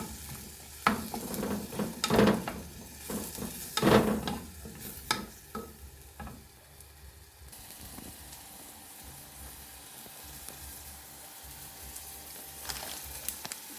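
A mixture fries in coconut oil with a steady hiss, broken by several sharp bursts of sizzling and stirring early on before settling into a quieter, even crackle.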